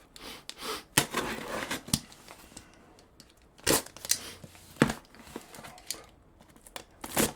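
Packaging of a clothing and accessories mystery box being opened close up, with sharp rips, cardboard knocks and crinkling in irregular bursts separated by quieter handling.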